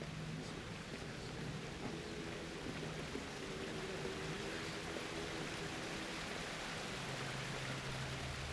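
A waterfall in Assassin's Creed Odyssey roars as a constant, broadband wash of falling water, even and unbroken, with a faint low hum underneath and no talking.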